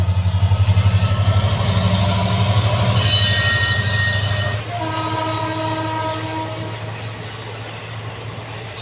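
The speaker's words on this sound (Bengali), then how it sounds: "তো দেখো ট্রেন যাওয়া যাচ্ছে।" A train rolls past close on the railway track with a rhythmic wheel clatter, squealing wheels and a sustained horn blast in the middle, loud throughout before easing.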